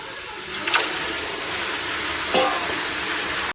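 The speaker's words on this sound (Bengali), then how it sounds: "একটু সামান্য একটু জল দিয়ে নেড়ে চেড়ে নেব।" Potato curry spices for aloo dum are stirred in a pan with a little water, making a continuous sizzling hiss with two short scraping stirs, fairly close and without speech.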